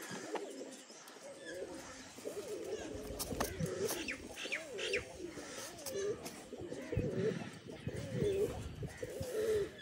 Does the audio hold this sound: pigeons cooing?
yes